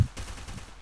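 Video game gunfire: a few sharp, close shots in quick succession, with a brief quieter gap before a final loud crack.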